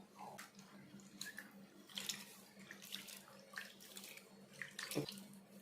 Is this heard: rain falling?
no